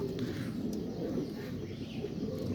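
A male Teddy pigeon of Pakistani breed cooing softly, a low murmuring rumble close by and fairly quiet, continuous over a faint background hiss with no voices.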